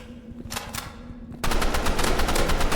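Rapid automatic gunfire in a Roblox shooting game, a lighter burst of shots giving way to dense, loud, continuous machine-gun fire that fills the rest of the moment.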